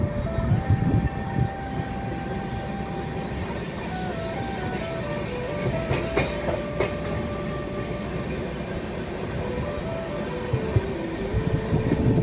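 Passenger train running between Howrah and Dhanbad through the Durgapur area, a steady loud rumble of wheels and carriage noise throughout with faint tonal hums and occasional clicks, no talking.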